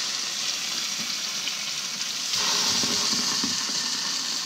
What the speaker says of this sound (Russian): Ждем сковородку и начинаем жарить.